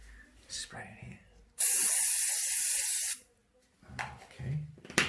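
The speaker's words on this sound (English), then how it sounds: "Okay, I'll spray it now." A spray can hisses onto a drawing in one steady burst of about a second and a half, loud and close, with quiet speech before and after.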